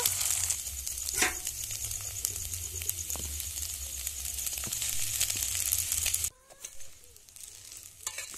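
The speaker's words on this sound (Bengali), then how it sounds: "দেখো ডিমগুলো ভেজে নিয়েছি" Eggs fry in a pan while chow mein is being made, giving a steady, close sizzle with scraping stir noises, then the hiss suddenly drops to a quieter, softer crackle near the end.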